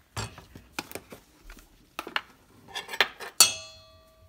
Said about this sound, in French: Enfin, verse 5 cuillères de farine et mélange.